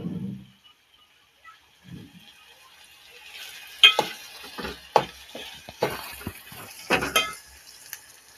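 Ivy gourd (tindora) curry with chillies stirred in a pan, a faint sizzle under a series of spoon scrapes and knocks against the pan, clustered in the second half.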